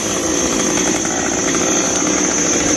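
A chainsaw cutting small branches from a heavily fruiting mango tree, a loud steady high-pitched engine whine close by, unbroken for the whole stretch.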